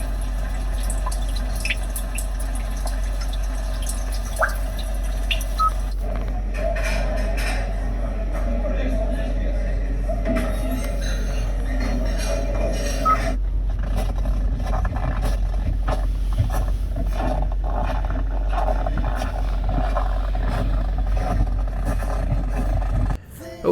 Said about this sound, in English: A rainy day for you.